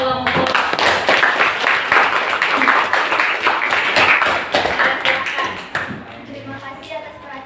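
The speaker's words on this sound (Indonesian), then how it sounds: "kasih dulu aplaus sama kelompok" Classroom applause for a student group at a madrasah lesson, a steady mass of clapping hands over about seven seconds, fairly loud and fading toward the end, with some voices mixed in.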